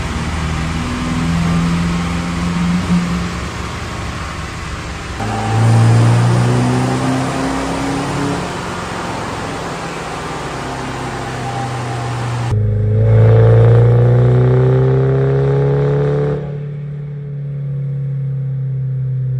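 A deleted 2.8L Duramax diesel pickup strapped down on a chassis dyno with an exhaust vent fitted, its engine droning loud and close, rising through revs in long sustained pulls and easing back between runs.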